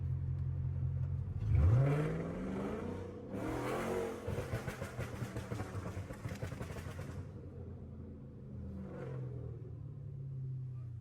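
A Chrysler 300 with a flame tune revs hard in first gear, a low rumble swelling into loud, growling bursts of throttle before easing off into a lighter idle.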